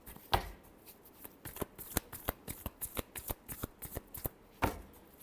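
A deck of tarot cards being shuffled by hand, a run of crisp riffling snaps and flicks up close, with a couple of louder slaps, alone without talk.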